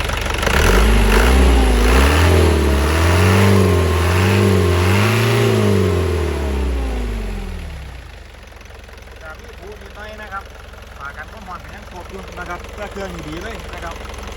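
A used truck's diesel engine revs hard with rising and falling surges for several seconds, then settles into a lower idle, loud and close, with someone talking over it.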